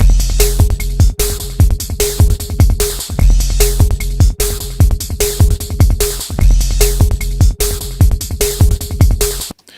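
Layered, processed snare drum hits with distortion and reverb play together in a steady, loud repeating pattern, each crack trailing into a washy reverb tail.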